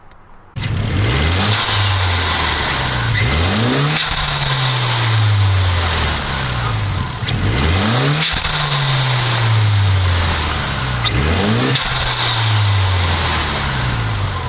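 A turbocharged Genesis Coupe engine with a TurboXS RFL blow-off valve revs up repeatedly through rising gears, each pull ending in a sharp hiss or whoosh as the throttle lifts, loud and close.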